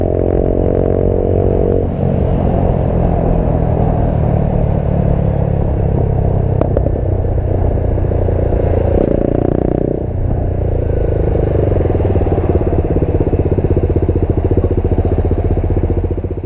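BMW G310R motorcycle ridden on the road, its engine droning loudly and continuously, with a couple of brief dips and rev changes partway through, and no talk.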